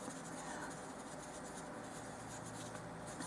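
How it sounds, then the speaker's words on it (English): Chalk pressed down hard and burnished onto the tops of tiny clay doll-size pancakes, a steady close dry rubbing and scratching that continues evenly throughout without pause. "I'm burnishing this chalk into the tops"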